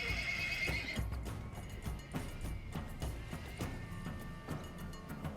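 A horse in the game Wartales gives a sharp whinny at the start, followed by clip-clopping hooves and scattered thuds.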